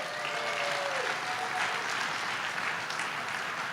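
A crowd at the TEXIT Coin Summit, held at the Motor Enclave in Tampa, Florida, gives sustained, dense applause that stays even and full throughout, with no talking over it.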